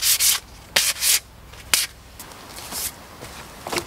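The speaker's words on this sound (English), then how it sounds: "So I'm not going to bore you with me sanding through all this." Sandpaper rubs against a new axe in short, rough strokes, some loud and close, others softer, with irregular pauses between passes and no speech.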